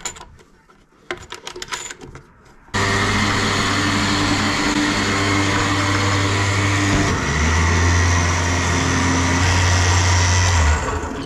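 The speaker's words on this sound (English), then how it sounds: "we'll show you guys a little demonstration here with the winch actually running" Electric winch on an enclosed trailer running steadily after a brief quiet start, with a loud, constant motor whine and a strained hum that shifts pitch partway through, alone with no voices.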